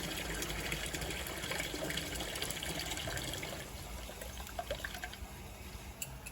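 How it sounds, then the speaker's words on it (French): Rinse water pouring out of a jacketed reactor in an industrial reaction unit, a steady close gushing flow with faint splashes and drips toward the end. "Nous réalisons autant de rinçage que nécessaire pour que le réacteur soit, que l'eau qui sort du réacteur soit limpide et transparente."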